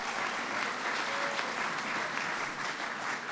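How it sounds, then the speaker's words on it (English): An audience at a formal event with the President, Vice President and Irish Prime Minister applauds steadily, a dense, even wash of clapping that holds for the whole few seconds. "Give her a big round of applause."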